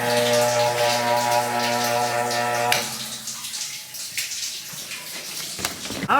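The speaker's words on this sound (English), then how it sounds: "Clean out the trash can by running some rinse water into it." Rinse water running into a trash can on a dairy farm, a steady hollow splashing rush that cuts off partway, leaving scattered drips and small clatters.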